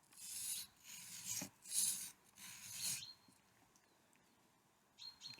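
A knife blade is drawn back and forth across a sharpening stone, with bevel marked in permanent marker, giving four rasping strokes about a second apart, then a quieter pause and a brief scrape at the end.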